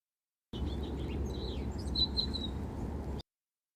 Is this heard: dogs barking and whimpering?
no